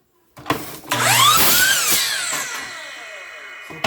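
A power tool cutting through a piece of wood, a close whining spin-up and rising shriek as it bites in, running a couple of seconds before winding down, with knocks around it.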